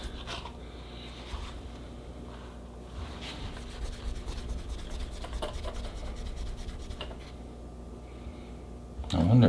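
A small buffing cloth rubs an electroplated part of a Conklin Glider fountain pen, giving a continuous close-up rubbing and scratching texture, ending in a louder thumping handling noise.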